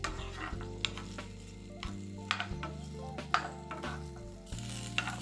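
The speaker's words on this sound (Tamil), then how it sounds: "இந்த வெண்டைக்காய் வந்து பார்த்திங்கன்னா ஒரு 5-10 நிமிஷம் நல்லா வதக்கி எடுத்தால் போதும்." Okra (ladies finger) sautés in a pan for chutney, a steady close sizzle with repeated scrapes and clinks of a spatula stirring against the pan, alone without voices.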